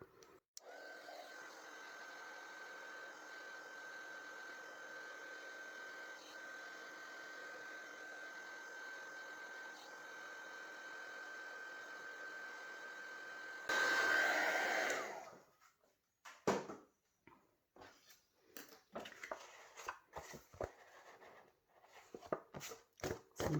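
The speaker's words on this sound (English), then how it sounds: "I'm going to come in and just go over that with the heat tool." A craft heat tool blows hot air over Brusho crystals, giving a steady close whirring roar that runs for about fifteen seconds and then cuts off, followed by soft handling noises.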